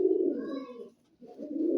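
Pigeons coo close by, Rampuri and golden birds among them, with a soft throaty call that breaks briefly and then resumes.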